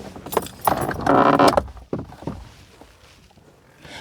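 Plastic trim clips snapping and scraping as a Vauxhall Corsa D dashboard panel is pried off, a dense burst of close cracking and rattling in the first second and a half, then quieter scattered scrapes.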